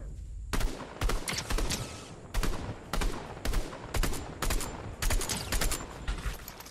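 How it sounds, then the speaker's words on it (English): In a video game, an enemy player fires at the player from the grass in repeated sharp bursts of gunshots, loud and close, coming in a fairly regular rhythm with no talking. "I don't like how he's shooting me through the grass."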